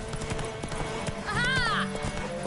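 A galloping horse in The Witcher 3 gives a steady, busy clatter of hooves under other game sounds, with a short whinny in the middle.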